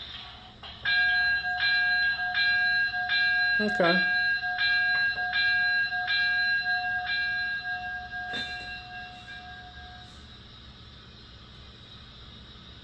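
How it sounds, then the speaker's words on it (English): A Broadway Limited Pennsylvania K4 streamlined model steam locomotive bell dings in an even rhythm about a dozen times, bright and metallic, then fades out; one brief spoken word breaks in early on. "We'll go ahead and try out the bell."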